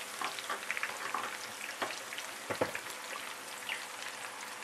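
Steady crackling sizzle of food frying in hot oil, with occasional sharper pops, continuous and fairly quiet, no voices.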